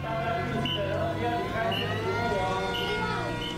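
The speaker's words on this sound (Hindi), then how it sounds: "सायरन बज रहे हैं, मिसाइल अटैक की आशंका जताई जा रही है।" Air raid sirens wail across Taipei in a rising and falling tone amid city background noise, with a voice talking over them.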